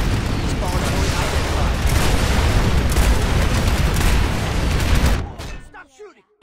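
Loud, dense gunfire and explosions in a night combat video game, continuous rapid shots and booms overlapping for about five seconds before cutting off to near silence with faint rustling.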